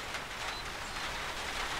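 Steady rain falling outside on a terrace during a stay-home camp, a dense continuous hiss of drops with no breaks and no voices.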